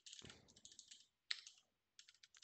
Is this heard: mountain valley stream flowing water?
no